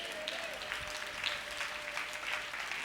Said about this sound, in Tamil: கைத்தட்டுங்க பார்த்து